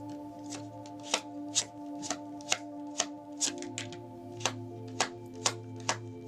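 Up close, hands shuffle a Cigano (gypsy) divination deck, producing a steady run of crisp card snaps and riffles roughly every half second over a constant low tonal hum, with no voices.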